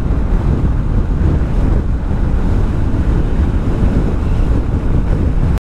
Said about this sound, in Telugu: ఇంకమ్మ ఎంత గాలి వస్తుంది అసలు.